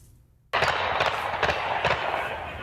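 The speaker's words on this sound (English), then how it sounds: "Chicago is no stranger to the sound of gunfire." Loud gunfire erupts suddenly after a quiet moment, a rapid string of sharp shots that continues steadily to the end.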